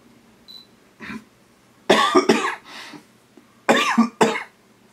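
Several separate coughs burst out close to the microphone, spaced by quiet gaps, with a pair of sharp coughs near the middle and another pair toward the end.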